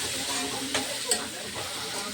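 Curry leaves frying in a pan of oil for coriander chutney, giving a steady close hiss and sizzle with a couple of brief stirring clinks.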